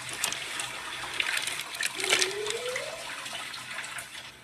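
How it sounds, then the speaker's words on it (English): A toilet flushing with objects inside the bowl, close running water that swirls and gurgles with a rising whoosh midway, then trickles off. "Look, it's like it's not gonna flush."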